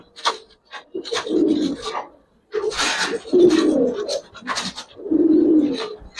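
Giribaz pigeons, a silver and an old-breed type kept alongside coloured pigeons, coo in repeated low throaty bursts close by, several rolling calls with short pauses between them.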